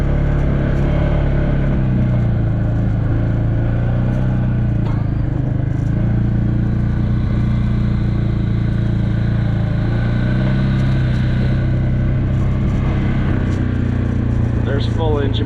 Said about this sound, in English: Full engine braking going down a pretty good hill.